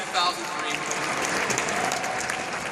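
An audience at an award ceremony breaks into applause, a dense, steady wash of many hands clapping that sustains at moderate volume, with a faint voice briefly heard near the start.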